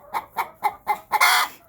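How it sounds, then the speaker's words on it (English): Three laying hens in a lit henhouse clucking in a quick series of four short, close clucks followed by a longer, louder squawk, with no talk over them. "So I have 3 hens in here laying their eggs, and I've got one standing there waiting her turn."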